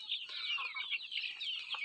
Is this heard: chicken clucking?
yes